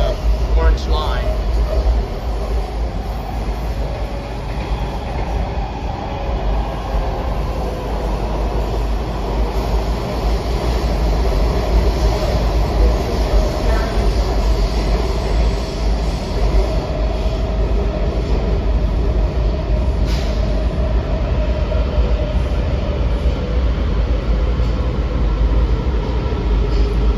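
WMATA Metrorail Silver Line 7000 Series subway car #7498 riding out of Rosslyn: a loud, steady rumble and roar of wheels on rail fills the whole ride, with faint high squeals and rattles over it.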